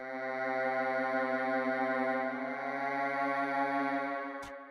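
A sustained synth pad made on a Maelstrom wavetable synth holds a rich, steady chord alone for several seconds, swelling slightly before stopping with a brief click.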